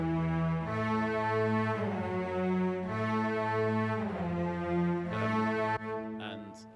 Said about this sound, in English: You can hear some portamento and stuff,